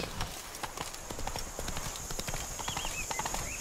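Horse hooves clip-clop steadily through a dense forest in The Witcher 3 video game, a rapid even rhythm of light thuds over a quiet ambient bed.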